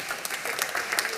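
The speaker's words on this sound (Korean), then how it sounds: "박수 주세요." An audience at a church worship service breaks into a short burst of lively applause, crisp clapping heard close for about a second.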